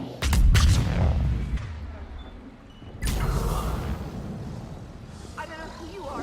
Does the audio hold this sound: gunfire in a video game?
yes